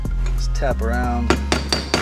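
Hammer tapping around the front wheel bearing of a 40-year-old Ford F-150, a few sharp metallic clinks with a ringing tone, close and loud.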